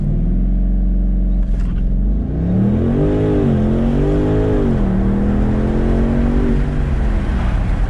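A 2020 BMW M850i xDrive Convertible launches hard from a standstill. Its engine note climbs loud and close, dips briefly at a gear change, then pulls strongly upward again with a deep, steady roar.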